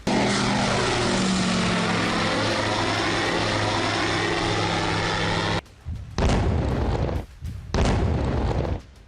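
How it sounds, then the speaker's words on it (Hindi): A Russian attack drone flies over Ukraine, its loud, steady propeller-engine drone filling the first several seconds before abruptly cutting to bursts of heavy, booming noise. "यूक्रेन पर रूस ड्रोन अटैक कर रहा है।"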